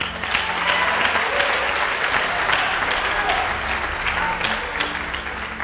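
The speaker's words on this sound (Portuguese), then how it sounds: "Dê um aplauso ao Senhor." A church congregation breaks into dense, steady applause, loud and continuous throughout with a crowd wash behind the clapping.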